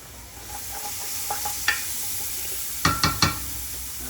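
Leeks sizzling in bacon fat in a pot, a steady frying hiss with a few soft clinks and stirring scrapes, a cluster of sharper ticks near the end.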